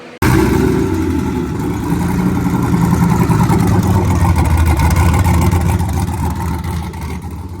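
A turbocharged OBS drift truck engine revs hard on a dyno pull, a loud sustained roar that starts abruptly and holds steady for several seconds before easing slightly at the end.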